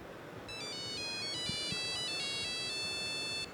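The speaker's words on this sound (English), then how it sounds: "So I'm going to play a ringtone." A mobile phone from around 2000 plays its ringtone: a bright, clean sequence of quick electronic melody notes stepping up and down, close and clear, with a couple of faint knocks underneath.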